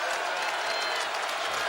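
A basketball arena crowd at a Marquette–Louisville game rises to its feet, a dense continuous roar of cheering and applause filling the space with no break.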